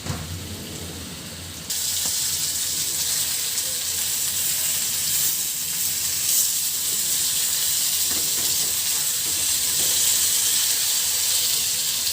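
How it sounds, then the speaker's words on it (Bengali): Fish pieces go into hot oil in a kadai. After a quieter moment, a loud, dense sizzle bursts up and holds steady and close, with faint crackles and spatters on top. "কড়াই দিয়ে দিচ্ছি মাছগুলো, তেলটা গরম হয়ে গেছে।"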